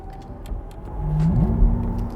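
Porsche Taycan electric car switching into Sport Plus mode, with a synthetic downshift cue: a short rising-and-falling tonal blip rides over a steady low cabin hum, close and moderately loud, with no speech.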